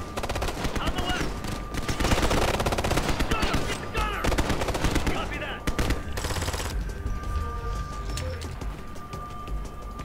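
Sustained LMG machine gun fire in Ghost Recon Future Soldier on PC, dense rapid bursts of loud gunshots nearly nonstop with a brief lull, while voices speak over the combat.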